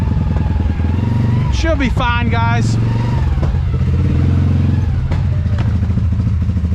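A CFMOTO ZForce 500 UTV engine runs loud and steady throughout, with a rising rev burst around two seconds in, while a person talks over the engine noise.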